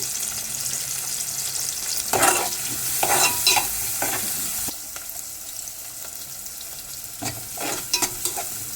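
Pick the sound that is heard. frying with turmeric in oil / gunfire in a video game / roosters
frying with turmeric in oil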